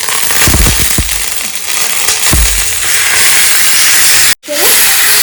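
Marinated chicken hits a hot pan on high flame, bursting into a loud, steady sizzle and hiss with a few sharp crackles early on, continuing alone without talk.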